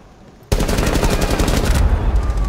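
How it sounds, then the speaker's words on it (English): Loud, rapid automatic gunfire from a Rainbow Six Siege match erupts suddenly after a quiet start and continues as a dense burst close to the listener. "He's shooting at me."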